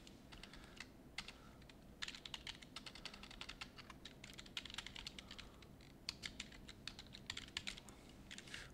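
Steady, fast typing on a computer keyboard while entering JavaScript code, a dense run of light key clicks with short pauses, close and moderately quiet, with no voice over it.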